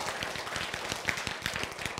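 An audience clapping together in a lecture hall, a dense continuous patter of many hands at steady volume with no talking over it.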